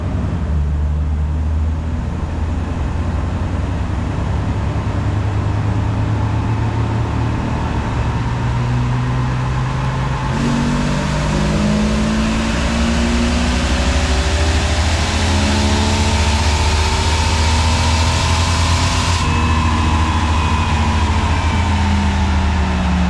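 Stock Jeep Wrangler TJ with the 4.0 engine on a dyno in second gear, a loud, steady engine drone rising in pitch as it revs through a pull, with no talk over it.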